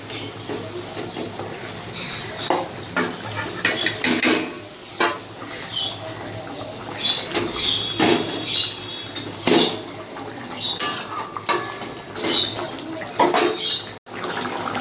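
Fried tilapia pieces go into a pan of boiling mustard-oil chili curry, with intermittent clinks and scrapes of utensils against the pan over soft bubbling and liquid splashes, close by.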